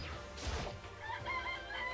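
In the video game Danganronpa: Trigger Happy Havoc, a chicken crows and clucks amid a brief crashing thud, a short dense burst of game sound with no talking.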